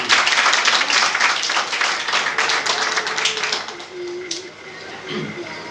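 Church congregation clapping for the Lord during an Urdu sermon, a burst of fairly loud, dense applause that fades after a few seconds into a quieter room.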